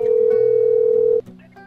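A telephone line tone at the start of a radio show call-in: one steady electronic beep holding for about a second, then cutting off into faint room noise.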